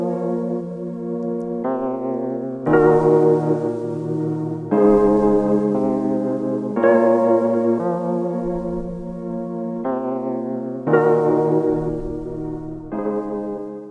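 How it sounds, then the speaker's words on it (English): Three keyboard tracks playing together in a remake of a hip-hop beat, a repeating chord pattern with bright plucked attacks every couple of seconds over a sustained low layer, steady and loud. "So all of these three keyboard tracks together sound like this."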